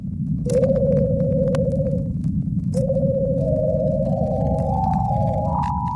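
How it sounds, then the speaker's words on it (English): Radio waves from Venus's atmosphere converted to sound: eerie electronic tones hold and step upward in pitch over a constant low rumbling hiss, with scattered crackles and clicks. "This is the sound of space, or rather Venus's atmosphere."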